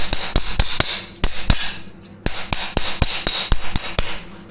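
Hammer blows on car body sheet metal being straightened for welding repair, sharp ringing strikes in quick uneven bursts with short pauses, close and loud, no talk.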